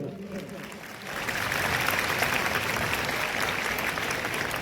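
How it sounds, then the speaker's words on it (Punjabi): Audience applause at a social gathering in Amritsar attended by a Punjabi singer and actor, swelling from light clapping into sustained, dense clapping from a large crowd that holds steady to the end. "ਇੱਕ ਵਾਰੀ ਤਾੜੀ ਮਾਰ ਕੇ ਹਾਮੀ ਭਰੋ"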